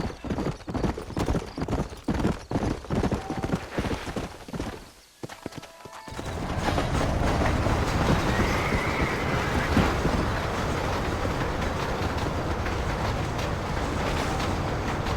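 Horse hooves clip-clop in a steady rhythm in the Red Dead Redemption video game, close and clear at first, then giving way after a brief pause to a dense, continuous rumble of galloping and travel.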